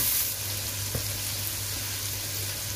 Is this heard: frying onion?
yes